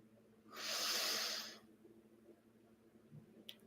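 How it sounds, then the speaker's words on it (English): One slow, airy exhale from deep diaphragmatic belly breathing during a guided meditation. It is close and soft, lasts about a second, and is followed by quiet room tone. "Exhale, let the belly drop naturally."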